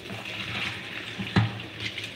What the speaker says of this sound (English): you pour some water in there and rinse